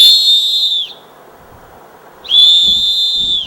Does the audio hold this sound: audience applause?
no